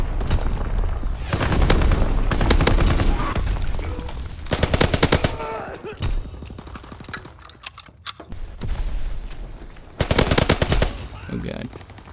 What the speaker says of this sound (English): Starting to use guns now.